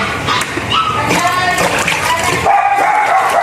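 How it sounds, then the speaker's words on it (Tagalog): Puppies barking and yipping noisily nearby, with several overlapping high yaps and whimpers in quick bursts, fairly loud, with some background noise. "Pati yung aming mga tuta. Ang ingay talaga as in."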